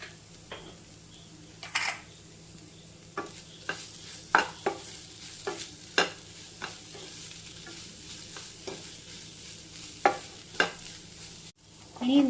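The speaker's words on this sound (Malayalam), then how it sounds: "നല്ലപോലെ ഇളക്കി കൊടുക്കണം. തക്കാളിയൊക്കെ ഒന്ന് അതിൻ്റെയൊക്കെ പച്ചമണമൊക്കെ ഒന്ന് പോയി കിട്ടണം." A spoon stirs tomato masala with salt in a pan for a Kerala-style masala curry: scattered sharp clinks and scrapes against the pan over a faint, steady sizzle, with no voices.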